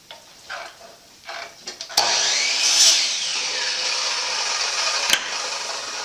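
Power saw tilted to a 40-degree bevel cuts log siding for a man cave garage, starting with a few short bursts, then a loud, steady whining cut that runs several seconds with a sharp snap near the end.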